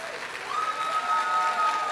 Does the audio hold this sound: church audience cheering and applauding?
yes